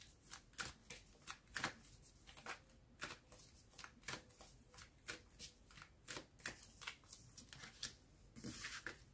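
Tarot cards shuffled and drawn by hand in a quiet room, a series of soft, crisp riffles and slaps at an uneven rhythm, close and fairly faint.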